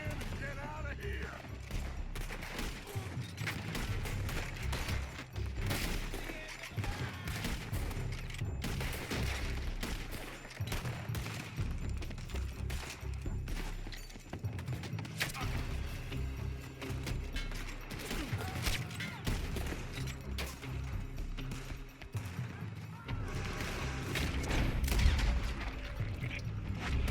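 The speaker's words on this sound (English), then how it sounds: "They're shooting from that building." Gunfire in the Red Dead Redemption 2 video game, with continuous loud shots and bursts from a building during a shootout, mixed with game music and voices throughout.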